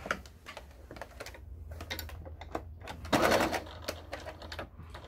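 A sewing machine stitches straight across fabric seams while making a cover, with a fast run of light ticking needle strokes and one louder burst of stitching in the middle, close and quiet.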